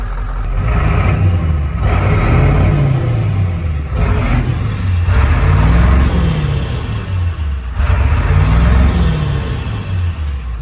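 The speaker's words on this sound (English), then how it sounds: "It doesn't idle smoothly, and it still has some white smoke coming out of it." Ford F250 with a 7.3 diesel engine idling roughly while it runs with white smoke, a loud, close, steady rumble with a slow, uneven rising and falling surge every few seconds and no voices.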